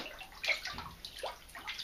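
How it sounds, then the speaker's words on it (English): A topwater fishing lure with a vibrating tail splashing and pushing water at the surface, making a few quick, close, wet splashes and gurgles. "it makes a good noise, and it really displaces a lot of water"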